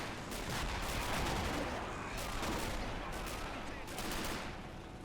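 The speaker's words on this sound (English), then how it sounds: "Wow, mortars are still landing back here" Mortar shells landing during a WWII infantry battle in a video game, heard as a dense, rumbling barrage of booms and gunfire that continues for the whole stretch, with no clear gaps.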